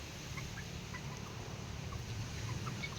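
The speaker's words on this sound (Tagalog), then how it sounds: "Murag mangitlog na ni Tintin oh" A hen clucks softly and intermittently in a low, murmuring series close by, calling as she prepares to lay an egg, over a quiet background hum.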